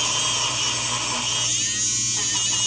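A battery-powered Aerolatte milk frother whirs steadily as it froths Baileys in a shallow juice cup, a continuous close buzzing hum that stays level from start to finish.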